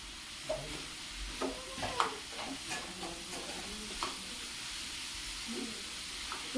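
Momo filling mixture being stirred in a pan, with soft scraping and light sizzle, scattered spoon knocks, fairly quiet and steady with no talking.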